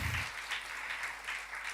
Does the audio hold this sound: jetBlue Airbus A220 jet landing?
no